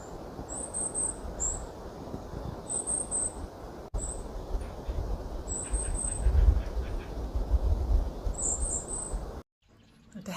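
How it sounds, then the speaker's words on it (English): Golden-crowned kinglet gives high, thin, slightly raspy calls in short groups of two or three, repeated several times over a steady outdoor hiss and low background rumble. "Golden crowned kinglets have high, thin, yet somewhat raspy C calls that are often given 2 or 3 in a row."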